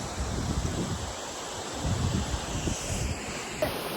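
Steady roaring rush of water at Betne Falls, a broad continuous wash close to the microphone with wind buffeting over it, no voices.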